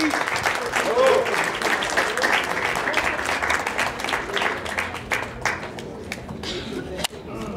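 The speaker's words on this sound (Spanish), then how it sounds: "Un fuerte aplauso, por favor." An audience applauds a speaker taking the podium at a public oratory event in Morelos: a dense, sustained patter of many hands that thins slightly toward the end, with a voice talking over it.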